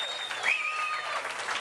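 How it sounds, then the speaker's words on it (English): Wedding guests at a reception give a round of applause for the groom's grandparents, a brief, fairly faint patter of clapping with a whistle or cheer rising through it. "Let's give them both a nice round of applause as well."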